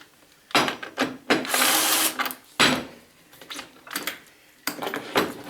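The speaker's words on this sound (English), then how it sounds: "where's my drill?" A cordless drill unscrewing a screw from a TSO dog clamp on a workbench, loud whirring bursts of varying length separated by short pauses, close to the microphone with no talking.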